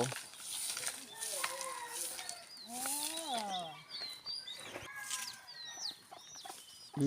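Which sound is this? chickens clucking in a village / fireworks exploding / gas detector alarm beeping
chickens clucking in a village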